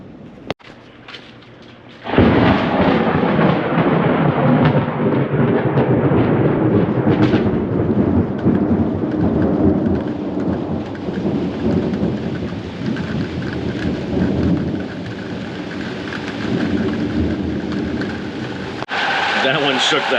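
Thunder rolling through a June thunderstorm, heard from outside a house: a loud, sustained rumble over steady heavy rain after a sudden crack at the start, with the rain continuing throughout.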